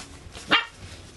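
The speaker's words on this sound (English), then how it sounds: "excuse my dog barking" A single short dog bark rings out faintly from another room, brief and alone against a quiet background.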